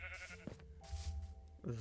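Sheep bleating in the Minecraft video game, a short wavering bleat heard clearly over quiet game ambience, with a second bleat starting at the end.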